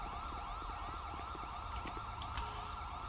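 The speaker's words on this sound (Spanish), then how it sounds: "Vamos a apagar las sirenas y retirar este vehículo." Emergency vehicle sirens in GTA V, a steady wailing up-and-down siren over a low engine rumble, with a few brief higher chirps near the end, no talking.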